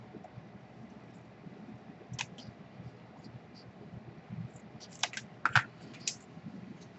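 Paper being cut for an envelope add-on page in a mini album: a few faint, crisp snips and clicks, spaced irregularly and bunched toward the end, over a quiet room hiss.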